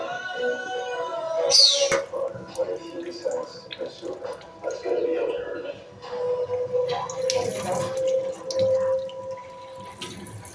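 Water gushes and splashes steadily into an empty blue plastic drum, with clattering and muffled voices mixed in over the running flow.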